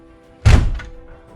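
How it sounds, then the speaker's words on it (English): An outside door to a garage being shut completely, one solid thunk at close range with a brief rumbling tail, otherwise quiet. "let's just go ahead and shut the door completely all the way"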